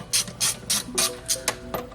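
Ratchet wrench loosening a nut on a Jeep Renegade trailing arm during a Rough Country lift kit install, seven quick bursts of clicking in a steady rhythm, close and clear with no talk.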